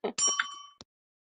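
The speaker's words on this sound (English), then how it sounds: "We hit the bell, so hopefully it works." A small bell struck once gives a bright ding with a short ringing tail, followed by a quick faint second tap in an otherwise quiet room.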